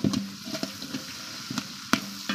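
Onions sautéing in a pan for a toor dal sambar with drumstick and brinjal, giving a steady close sizzle broken by a few short stirring clatters, with no talk.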